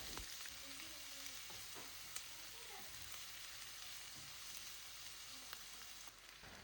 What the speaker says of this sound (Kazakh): Енді қызып тұрған майымызды, пиязымызды қуырып алатын боламыз.